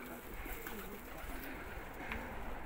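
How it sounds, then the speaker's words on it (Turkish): Pigeons cooing inside an abandoned building where they nest, soft low coos repeating faintly at a distance against a steady background hiss. "Buraya sürekli iniyor güvercinler arkadaşlar"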